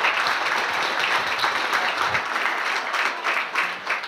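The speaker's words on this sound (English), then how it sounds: "if we could have a round of the applause for our honorary guests one more time" Sustained audience applause fills the room at a chamber of commerce annual dinner, a dense, steady clapping crowd heard alone without talk.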